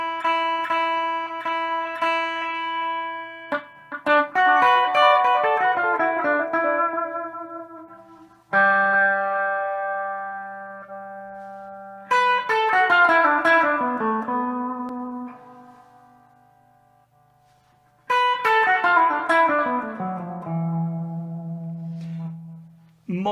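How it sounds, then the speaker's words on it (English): Sustained musical notes played through a reverb or delay effect ring out and decay with echoing tails. Several separate phrases start loud and fade slowly, with no voice. "Reverb or delay, which, as the name suggests, alters the level of echo."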